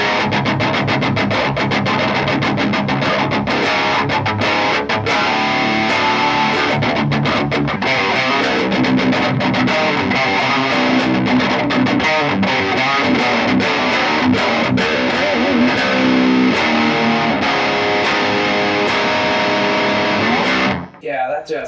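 An EART GW-2 electric guitar played with a heavily distorted tone, loud and continuous chugging riffs and sustained chords filling the whole stretch before cutting off abruptly at the end.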